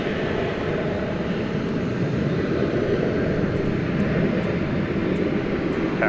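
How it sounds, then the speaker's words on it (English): An American Airlines jet, a flight bound for Guadalajara, rolls down runway 18 left at DFW Airport, giving a steady, broad engine roar that holds loud and even throughout with no pauses. "American Flight 1174 is going to Guadalajara, Mexico. And it is now rolling down runway 18"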